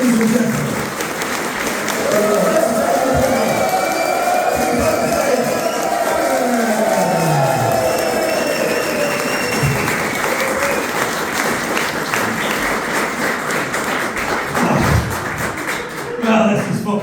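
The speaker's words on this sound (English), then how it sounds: "ladies and gentlemen, start your clapping" A comedy audience claps and cheers loudly and continuously, with whoops and voices mixed into the dense applause throughout.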